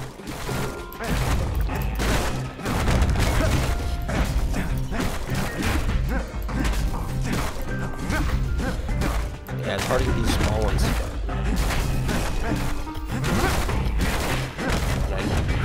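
Repeated smashing and crashing of breakable objects in the action game Bastion, heard as dense, loud impacts and clattering bursts over a continuous game soundtrack, with a person talking over them.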